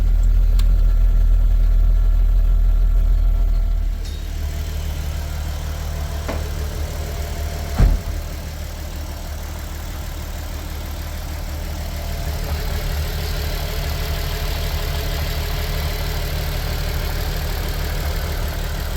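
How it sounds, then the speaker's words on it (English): A VW Corrado engine idles steadily and close by, a continuous low rumble with no revving, broken only by one brief knock partway through. "The engine runs very good."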